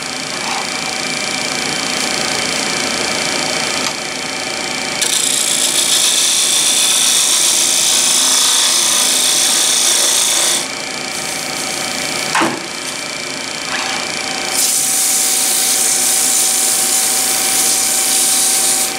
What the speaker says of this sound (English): Take a small round nose scraper and clean up the transition between